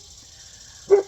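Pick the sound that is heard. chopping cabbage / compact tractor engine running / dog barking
dog barking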